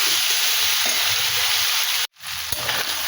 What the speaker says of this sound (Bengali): কচুর সঙ্গে মশলা চিংড়ি সব ভাজা হয়ে গেছে